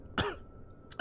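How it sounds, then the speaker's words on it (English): A person coughs while choking, two sharp close bursts about a second apart, the first harsher and longer, heard alone with no talk. "Sorry, I'm choking."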